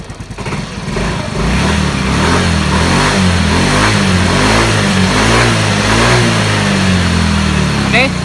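A Yamaha Mio M3 scooter engine being revved up and held at a loud, steady buzzing drone, close by, with pitch wavering as the throttle shifts.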